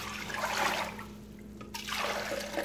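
Water running into a cooking pot to make syrup for a papaya sweet, a steady near trickle and splash that pauses briefly midway before resuming, with no talk over it.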